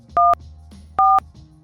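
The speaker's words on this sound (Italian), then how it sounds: "quei suoni che sentiamo quando premiamo i tasti sul telefono" Two loud, clean DTMF telephone keypad tones, each a short, steady dual-pitched beep, separated by a pause of just under a second over faint background noise.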